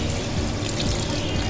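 Tamarind water pours steadily into an elephant yam and dried fish gravy, a continuous close liquid rush with no pauses.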